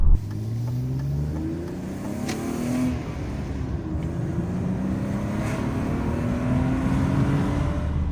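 A BMW 320i E36 engine revs up through the gears while driving, its rising and falling tone loud and continuous from start to end, with no voices over it.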